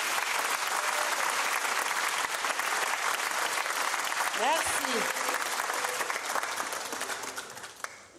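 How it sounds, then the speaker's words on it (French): Sustained applause from an audience after a choir performance, dense steady clapping filling the room for several seconds, with a brief spoken thanks partway through before the clapping tapers off. "Nous pouvons applaudir pour eux."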